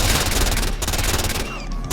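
Rapid bursts of gunfire in the Roblox game Mind's Fall survival crackle nonstop and loud, layered into a dense, continuous volley.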